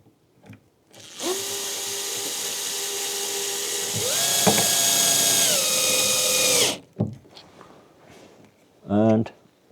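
A power tool drives screws while wiring a storage cabin, a loud whirring whine that rises in pitch and holds for several seconds before stopping, with brief speech after it ends.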